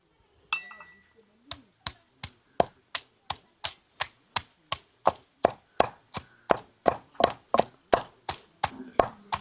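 Steady, rhythmic pounding of large onions in a stone mortar for Telugu kandi pachadi, about two sharp close thuds per second with a faint voice briefly at the start.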